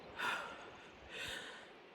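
A baby mimics an adult's heavy panting during a break on a waterfall hike, two breathy gasping bursts close to the mic, the second slightly longer, with no talking.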